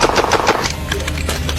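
Revolver fired rapidly, a fast burst of sharp shots, then a brief pause for a reload before more quick shots, loud and close.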